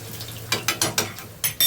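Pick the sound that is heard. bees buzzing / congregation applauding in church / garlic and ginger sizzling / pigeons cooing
garlic and ginger sizzling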